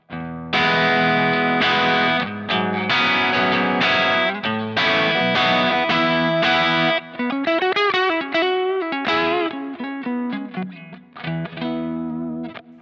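An electric guitar through a Chip Screamer overdrive pedal, rolling off much bass, plays crunchy strummed chords and then single-note runs, loud and close, with a compressed, focused tone.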